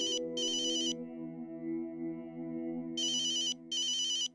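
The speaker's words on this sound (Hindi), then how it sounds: "अंकल ओझा आपका फोन है।" A phone ringtone plays in two bursts of bright electronic trilling separated by a pause, with a sustained low tone underneath.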